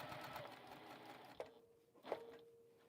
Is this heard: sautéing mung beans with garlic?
no